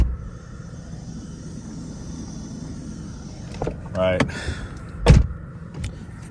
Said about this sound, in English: the soft shut door actuator, whatever that's called, definitely has leaked out or is leaking